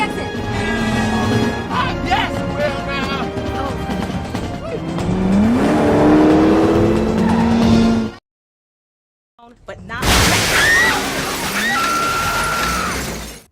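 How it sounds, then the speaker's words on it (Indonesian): A Chevrolet Monte Carlo race car roars at a NASCAR circuit, its loud engine whine rising and falling with tire squeal. The sound cuts out briefly to silence, then the roar returns, with voices mixed in. "Dia saat ini membalap menggunakan Chevrolet Monte Carlo untuk mengikuti kejuaraan NASCAR"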